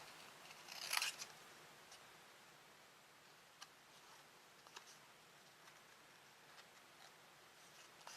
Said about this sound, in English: Now I'm going to take my paper snips and I'm just going to cut out, leaving a slight border of my ebony cardstock around my punched out frame